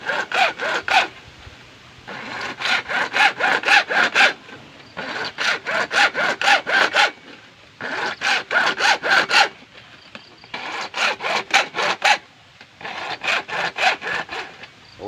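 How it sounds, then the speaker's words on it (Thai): Hand saw cutting through PVC pipe in steady back-and-forth strokes, arranged in five bursts separated by short pauses, close and fairly loud. "เลื่อยตามเส้นไปครับ"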